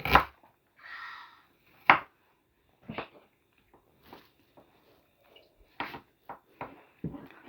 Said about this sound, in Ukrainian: Софійка крише цибульку.